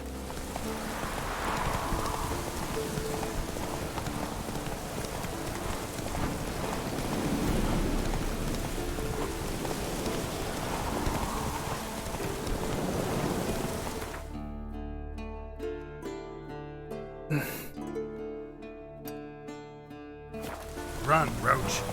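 Roach the horse galloping in The Witcher 3, hoofbeats drumming steadily under a wash of rain and storm noise before the scene shifts to sparse music-like tones.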